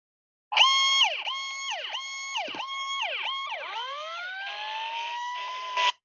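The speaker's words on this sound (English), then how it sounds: "this is my alarm for something" An electronic alarm tone repeats in falling chirps, then shifts into a rising, wavering siren-like wail, steady and fairly loud with no voices.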